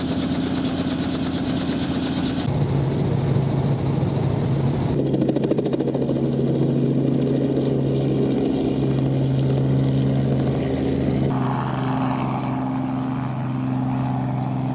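A helicopter flies over Miami, Florida, its engine and rotor drone steady, loud and close, with tonal whine and thrumming blade chop running throughout and no talk.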